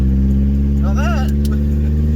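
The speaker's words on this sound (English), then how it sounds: "a mini burnout with full biplane effect there" A small truck revs during a mini burnout with a steady, loud engine drone, close and continuous, and a brief squeal rising over it partway through.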